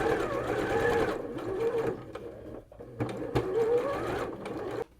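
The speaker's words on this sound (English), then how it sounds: "So I'm just gonna pin the rest on and then we'll sew." A sewing machine runs in steady bursts while stitching a long fabric strip for a shirred dress, with brief pauses and restarts between runs, close and fairly loud.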